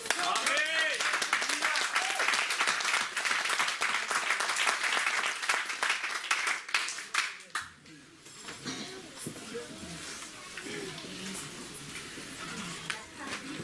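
A church congregation applauds in a dense, sustained burst of clapping that fades after several seconds, giving way to a preacher's voice.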